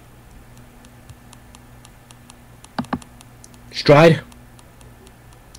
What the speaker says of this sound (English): that's me clicking my mouse pad